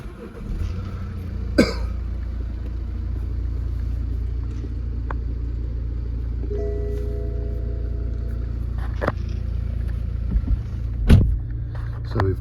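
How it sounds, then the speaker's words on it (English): A car with full leather interior, heated seats and paddle-shift gearbox starts up: a brief cranking burst, then a steady low engine idle rumbling close by, with a couple of faint clicks and thumps inside the cabin. "Just start the car up."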